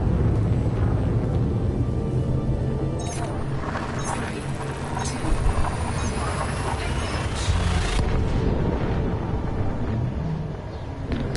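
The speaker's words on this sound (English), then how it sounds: "That's why you hear the explosion there, Rabbit, because that's the supernova." A supernova blast in the space game Elite Dangerous rolls out as a sustained, loud, dense rumble with a few sharper surges partway through, filling the whole stretch.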